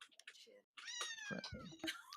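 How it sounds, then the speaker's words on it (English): A house cat meows a few times nearby in quick, rising cries, mixed in with people talking and soft indoor noises. "Oh, there's a kitty."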